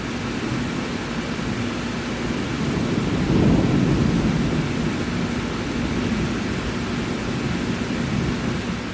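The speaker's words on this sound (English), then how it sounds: "We've got a storm." Heavy rain pours down during a thunderstorm at Disney's Epcot, a loud continuous wash of noise with a low rumble of thunder swelling midway.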